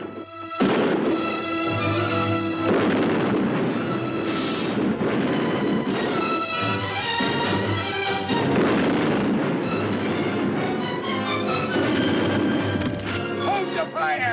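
Continuous heavy gunfire and booming blasts in a 1954 pirate film set near a beach, loud and dense throughout with a crashing battle din and voices mixed in.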